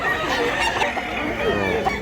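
Bullstag gamecock clucking nearby, a busy two-second run of overlapping chicken calls with a faint voice underneath.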